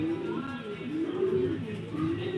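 Close, soft rolling coos of a racing pigeon in a low repeating warble, with a voice in the background.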